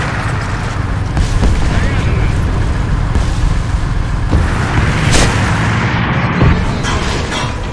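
Artillery fire in the War Thunder combat game: heavy booms and blasts over a dense, continuous rumble of battle noise, with a few sharper reports standing out.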